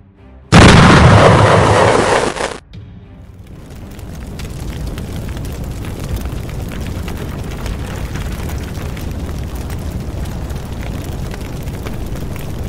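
A loud burst from a kamikaze FPV drone strike on a Russian position erupts near the start and lasts about two seconds, then gives way to a steady rumbling roar of aftermath noise.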